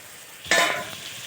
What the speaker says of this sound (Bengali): ভাজাভুজি হচ্ছে